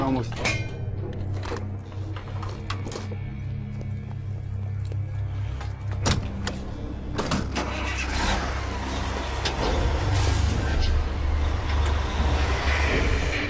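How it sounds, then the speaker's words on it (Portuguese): A diesel truck fuelled on cooking oil drives along the road, its mid-pitched engine droning and revving steadily, with a narrator speaking over the running motor. "este caminhão e muitos outros veículos movidos a diesel poderão estar na estrada"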